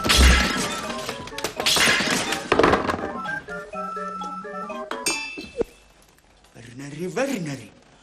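Glassware crashes and shatters indoors in a comedy sketch, a loud burst of breaking clinks and clatter up front, followed by scattered thuds and tinkles as people talk over and around it.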